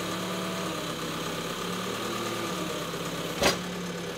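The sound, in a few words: City Ranger 3070 engine idling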